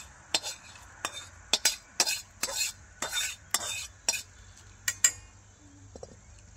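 A spoon scrapes fried masala out of a kadhai while making chicken kharda, giving about a dozen sharp metallic scrapes and clinks in an irregular rhythm, close and fairly clear, with no talking.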